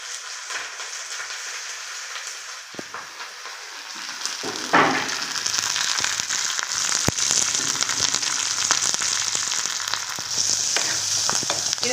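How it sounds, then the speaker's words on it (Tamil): Onion, crushed garlic and curry leaves fry in hot oil, quiet at first, then a loud, steady crackling sizzle that holds, with a few sharp pops and stirring knocks. "இப்போ பாருங்கள், வெங்காயம் பூண்டு நம்ம எல்லாமே நசுக்கி போட்டுருக்கோம். எல்லாமே நல்லா வதங்கிடுச்சு."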